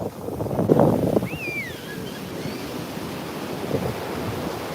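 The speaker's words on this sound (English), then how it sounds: "That wave coming in." Ocean surf rolls in at Copacabana Beach, a broad steady wash of breaking waves mixed with gusty wind noise on the microphone, swelling early and then settling into a continuous roar.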